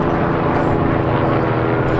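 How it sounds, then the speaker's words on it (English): Police helicopters passing overhead at a street takeover, heard as a loud, steady rotor and engine drone that fills the whole stretch without a break. "Got the choppers on top."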